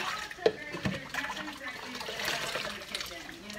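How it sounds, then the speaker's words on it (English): Water runs and splashes in a sink while a cat is rinsed during a bath, a steady trickle and patter with a few sharp splashes, close and moderately loud, with a person talking gently over it. "Let me get a rinse, Kelly."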